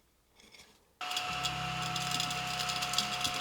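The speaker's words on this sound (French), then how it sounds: "c'est un aspirateur à table qui pue le café" A small tabletop crumb vacuum cleaner switches on after a moment of quiet, then runs with a steady whirring motor and a high whine, close and constant.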